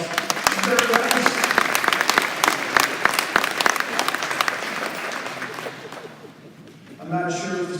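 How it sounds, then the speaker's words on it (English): Audience at a softball field dedication ceremony applauds in a dense burst of clapping that tapers off, and a voice begins speaking near the end. "Give yourselves a round of applause."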